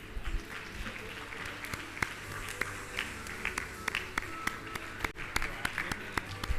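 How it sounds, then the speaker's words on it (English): Audience applause at a conference, with scattered sharp claps, fairly faint and continuous, while a voice carries on over it. "Let the applause continue."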